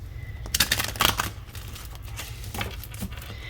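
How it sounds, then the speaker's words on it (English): Oracle cards being shuffled by hand, a crisp riffling flurry of papery slaps and crinkles near the start, then softer scattered shuffling over a low steady hum. "Let's give it a good shuffle"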